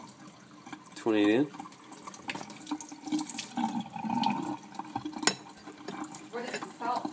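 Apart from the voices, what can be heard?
tap water rinsing 14C28N and AEB-L steel test pieces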